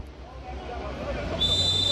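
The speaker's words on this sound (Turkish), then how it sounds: "Düdük çaldı." Referee's whistle at an amateur football league match in İzmir: a single sustained, piercing blast starting midway and held to the end, over faint crowd and field murmur.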